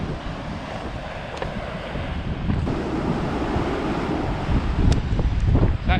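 Waves wash onto a beach in Portugal, a continuous close roar of surf with heavy wind buffeting the microphone.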